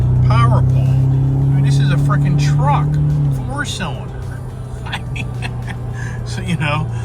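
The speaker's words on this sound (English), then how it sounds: "I'm sure you kind of hear the motor and all." A four-cylinder Ford Ranger pickup truck engine drones steadily at close range as it accelerates, its low hum easing partway through, with speech and brief higher sounds over it.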